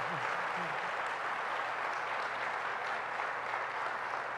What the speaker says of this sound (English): So I want to give a round of applause to Governor Brad Little, who's joined us